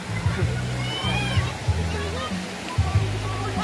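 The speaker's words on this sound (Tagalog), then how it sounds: "Malaking sapa po." A large stream flows steadily outdoors, a continuous rushing wash of water. People talk and shout loudly over it throughout.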